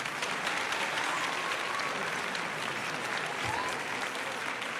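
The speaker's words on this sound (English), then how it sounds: "Let's give them a big round of applause." A crowd claps loudly and continuously for the drama directors at a children's stage show, a dense, steady wash of applause lasting several seconds.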